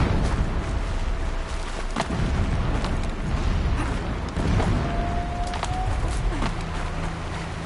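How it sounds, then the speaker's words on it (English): Distant explosions thud repeatedly across a dense, rumbling battlefield backdrop, several sharp booms standing out above a continuous low roar, with a faint whining tone drifting through at times. "Explosions in the distance."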